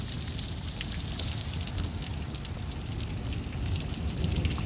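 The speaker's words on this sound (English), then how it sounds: "it's raining." Steady rain and hail pour down during an Iowa thunderstorm, a dense hiss with scattered sharp ice hits that grows slightly louder partway through, with no voices.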